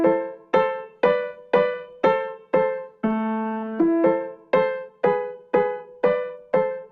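Golden Age Grand sampled piano from Teletone Audio, played in Kontakt: a steady sequence of about fourteen separate struck notes and chords, each ringing out and decaying, with one longer sustained chord partway through, clear and alone.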